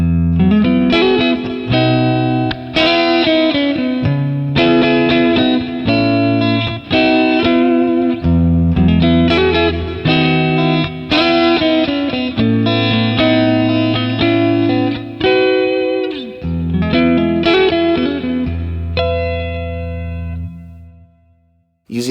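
An electric guitar played through a Revv D20 amplifier, miked with a Sennheiser 421 and Royer 121, with stereo delay and reverb added: loud, overdriven chord strums and sustained notes in rhythmic phrases with lingering echo tails.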